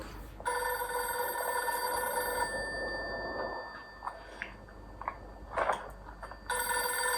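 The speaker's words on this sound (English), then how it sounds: "Why is his phone box ringing?" An old-fashioned police box telephone bell rings loudly in a long trill, stops for a few seconds of quieter background with small clicks, then starts ringing again.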